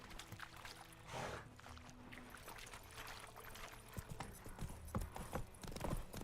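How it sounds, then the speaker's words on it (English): Horse hooves clip-clop in The Witcher 3 game, a steady close rhythmic trotting that carries on throughout at low volume, with no talking over it. "Horsey! Come here, Roach."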